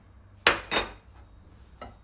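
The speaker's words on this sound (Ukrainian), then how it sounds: "Поки що мішаю так ложкою" A few sharp clinks of a spoon against a bowl while stirring apple pie dough, two close together then one more after a pause, with a quiet background.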